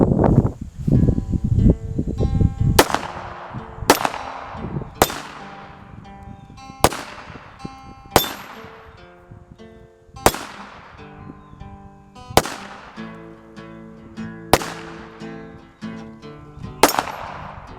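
A Bersa Thunder 380 pistol with an extended magazine fires outdoors at targets, about ten loud, sharp shots spaced a second or two apart, each ringing off in a long echo, after some initial rustling.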